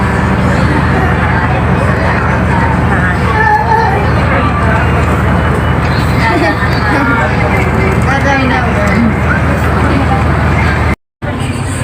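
Ambience at the busy Larantuka seaport harbour, with a constant wash of crowd babble and engine and vehicle rumble. The noise is steady and moderately loud, then breaks briefly near the end.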